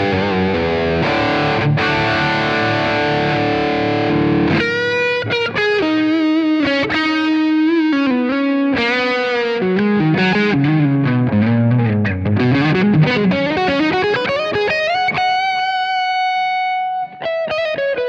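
High-gain distorted electric guitar played through a Taurus SH7 Apogee floor amplifier with the overdrive near six of ten, running loud and continuous with sustained chords, then melodic bends and single-note runs ending on a held note.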